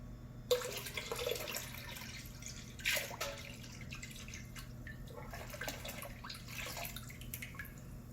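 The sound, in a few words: yeast being poured into fermenter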